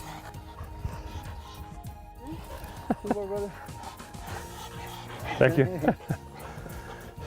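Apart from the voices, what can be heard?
hunting dogs barking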